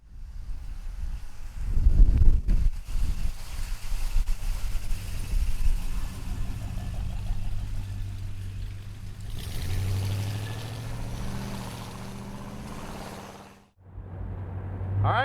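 A 1968 Pontiac GTO convertible under way on a ride, its low engine drone steady beneath heavy wind buffeting, dipping briefly near the end before returning.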